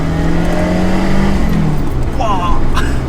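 Rally car engine heard from inside the cabin, revving hard under acceleration with a steady loud drone whose pitch climbs and shifts through a gear change, overlaid by some speech.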